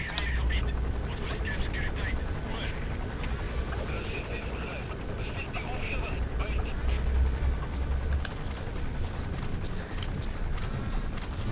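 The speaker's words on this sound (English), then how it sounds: "Support helicopter requested." A support helicopter arrives in Metal Gear Solid V: The Phantom Pain, with a steady, loud rotor roar and engine hum continuing throughout alongside game ambience.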